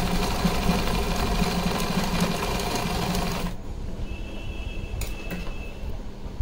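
A sewing machine stitches lace onto net and blue fabric for a lehenga, running in a steady, continuous whir for about three and a half seconds before stopping and leaving a quieter room.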